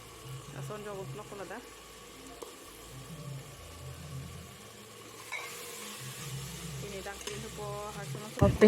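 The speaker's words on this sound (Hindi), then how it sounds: "मसाला को ऐसा चलाते रहना चाहिए" Masala with ginger-garlic paste fries in a pan for a mutton curry, a soft steady sizzle under repeated scraping stirs of a spoon against the metal, with a voice talking over it.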